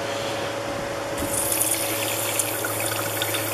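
Water runs steadily from a faucet into a campground bathroom sink at a state park, a continuous close hiss and trickle with no talk.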